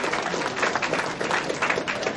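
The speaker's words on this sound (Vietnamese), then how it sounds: "Xin chào một tràng vỗ tay" A crowd at a Vancouver community fundraiser claps steadily for honored guests, with dense, sustained applause filling the room at even loudness.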